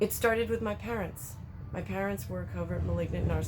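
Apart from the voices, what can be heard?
No everyday noise stands out behind the speech.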